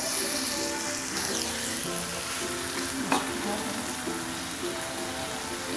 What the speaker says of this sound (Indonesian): Aduk-aduk sampai rata lagi.